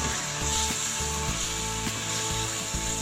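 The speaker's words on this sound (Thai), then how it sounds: "ผัดคลุกเคล้าทั้งหมดให้เข้ากันเลย" Pork intestine and basil are stir-fried in a pan, giving a loud, continuous sizzle with scraping and rubbing strokes of the spatula, close up and without talk.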